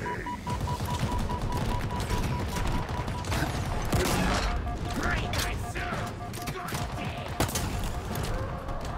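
Rapid bursts of weapon fire in the video game Halo Infinite, a dense continuous barrage with sharp cracks layered over game effects, while someone talks throughout.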